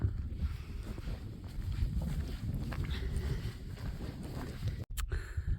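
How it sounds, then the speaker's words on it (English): Steady wind gusts and rumbles across an open desert trail plateau, close to the microphone. It is continuous broadband noise with no talking. "And the wind has picked up too."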